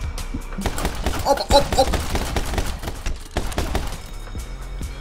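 Gunshots in the game My Friend Pedro ring out as a quick cluster of sharp cracks mixed with thuds, with a voice giving short exclamations between the shots.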